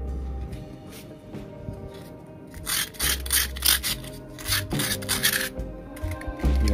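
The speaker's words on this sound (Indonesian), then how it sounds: "Biar nggak terlalu karat ya sahabat kuaser, dibersihin dulu pakai amplas ya" Rough, rasping strokes of sandpaper scraping a rusty bicycle freewheel, coming in irregular bursts close by over a steady low background hum.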